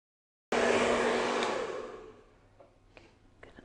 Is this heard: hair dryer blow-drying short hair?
yes